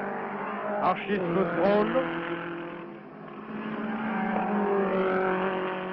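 A race car passes during the Glover Trophy race, its engine note rising and then fading with a brief tire squeal, under a commentator's voice.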